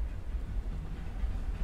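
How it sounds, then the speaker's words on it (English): A low, steady train rumble from the game Life Is Strange 2, faint and distant, with no voices over it. "That's a train. Listen."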